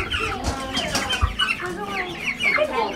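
Meat chickens on a pastured poultry farm cluck and murmur continuously up close, a busy flock chorus with some voices mixed in.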